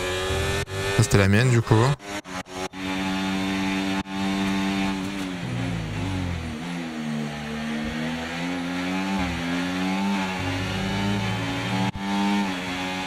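Racing car engine in an F1 career video game, revving in sustained, steady high-pitched whines with shifting pitch, preceded by a few sharp bursts, while a person speaks briefly at the start.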